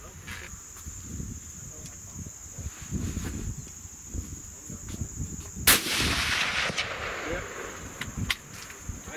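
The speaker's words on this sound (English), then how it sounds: "I am shooting a Remington 700 7mm Rem Mag." A single sharp shot from a Remington 700 rifle chambered in 7mm Rem Mag, firing 166-grain Hornady A-Tip handloads with H1000 powder, cracks loudly about midway through, over outdoor ambience with insects chirping steadily.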